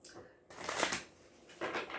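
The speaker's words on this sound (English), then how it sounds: "I'm just going to pull a card." Tarot cards are shuffled close by in two brisk, papery riffling bursts separated by a short pause.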